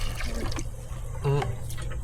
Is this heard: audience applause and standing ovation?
no